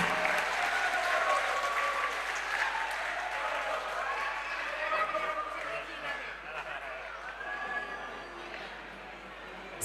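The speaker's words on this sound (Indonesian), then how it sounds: "Kita berikan tepuk tangan yang meriah." Audience applause at a wushu sanda open championship in North Sumatra, a steady crowd clapping that fills the whole stretch at even loudness, with some talk mixed in.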